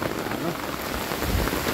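Heavy rain pours steadily, a dense, loud, continuous hiss of drops drumming on surfaces with no break.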